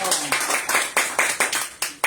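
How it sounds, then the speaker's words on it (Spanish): A small group claps for a woman at a Spanish-language religious talk on the Holy Spirit, giving about eight distinct sharp bursts in a steady rhythm, close and fairly loud. "Un aplauso para ella."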